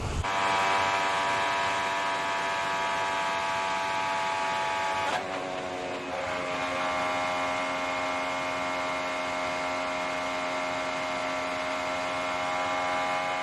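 A steady high-revving IndyCar engine drones with layered harmonic whine during Indianapolis 500 practice, then a sudden drop and sputtering break in the tone from a plenum event backfire around the midpoint before the engine note resumes.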